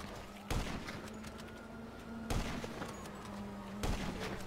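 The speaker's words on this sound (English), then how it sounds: "His sniping's actually quite good." Three loud, sharp sniper rifle shots in GTA 5, spaced about two seconds apart, each with a short booming tail over continuous game ambience.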